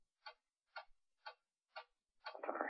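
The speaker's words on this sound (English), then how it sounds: "What is that mysterious ticking noise?" A mysterious ticking noise sounds five times at an even pace, each tick crisp and faint, with a burst of noise after the last one.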